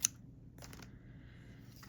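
Scissors make a quick snip through tag material for a grungy craft tag, one sharp click at the start followed by a soft second cut, close and quiet in a still room.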